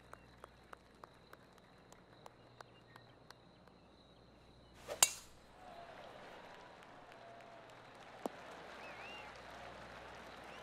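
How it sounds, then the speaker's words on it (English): Soft golf crowd clapping from the PGA 2K23 video game: a faint, even patter of applause that swells in after a sharp click midway and holds at a low level to the end. "Oh, golf clap."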